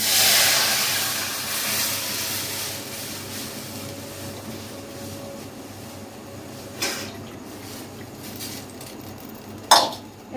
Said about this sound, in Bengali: এবার কড়াই দুধটা দিয়ে দিচ্ছি।